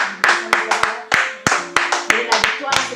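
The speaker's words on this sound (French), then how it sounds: "nous allons encore l'applaudir pour dire merci parce qu'il entend les prières des saints" A church congregation claps in rhythmic, sharp beats, about a dozen distinct claps over a few seconds, mixed with a sustained murmur of voices and singing underneath.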